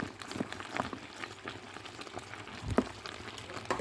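Pot of yam, potato and plantain porridge bubbling and simmering on the heat, with soft steady boiling, gentle liquid pops and a few louder bubbling bursts, close up with no talk.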